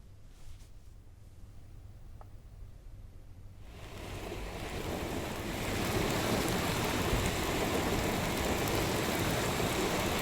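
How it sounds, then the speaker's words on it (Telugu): Rain falls in Hyderabad as a broadband hiss, quiet at first and then swelling into a steady, heavier downpour. "హైదరాబాద్ నగరానికి తొలకరి వాన ముద్దాడింది"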